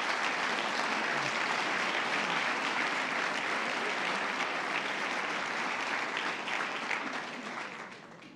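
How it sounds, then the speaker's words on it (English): An audience applauding at a Kansas City University of Medicine and Biosciences event, sustained dense clapping from a large crowd that holds steady and then tapers off near the end. "that round of applause"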